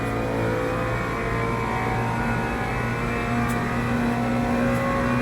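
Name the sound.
GT3 race car engine at Monza in Le Mans Ultimate video game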